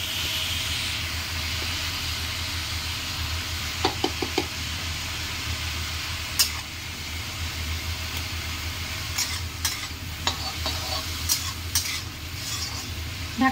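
Teasel gourd and jackfruit seeds sizzle softly in a pan with salt and turmeric while a utensil stirs and knocks against the metal in short irregular clacks, no talking.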